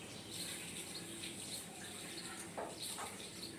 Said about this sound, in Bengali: আর এবার আমি ওই বাটিটা ধুয়ে একটু জল দিয়ে দিলাম।